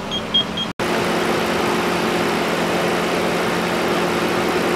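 A 2013 Ford Explorer engine idles steadily during an automatic transmission oil change, a constant low hum running evenly before shutdown, with a brief cut near the start.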